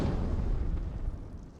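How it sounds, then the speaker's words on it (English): Dragon fire breath shout unleashed in Skyrim against a pack of huskies: a dense, sustained roaring rush of low rumbling flame, loud and continuous, fading slightly at the end. "I'm just going to fire breath all of them"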